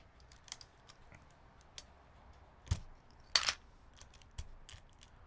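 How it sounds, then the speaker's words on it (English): Keycaps being pried off a Kei v2 mechanical keyboard: a scatter of sharp plastic clicks and snaps at uneven intervals, with one louder rattling pop midway, close and fairly quiet against a faint background hiss, no talking. "So we're pulling off all the keycaps."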